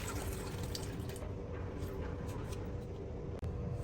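Tap water runs steadily into a sink while beef is washed, a continuous close splashing rush with a faint clink near the end and no talk.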